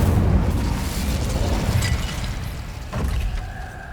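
Casting the Incendio fire spell in the video game Hogwarts Legacy gives a sustained roaring, whooshing rumble of flame, with a brief extra burst of fire partway through and no voices.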